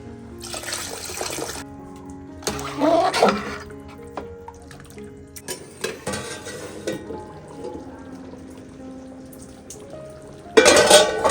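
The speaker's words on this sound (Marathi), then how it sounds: "थोडं पाणी ॲड करू आपण" Water is poured into a pot of Malvani chicken curry with potatoes cooking on a wood-fired chulha. Three short splashing bursts stand out against a quieter kitchen background of faint clinks and murmurs.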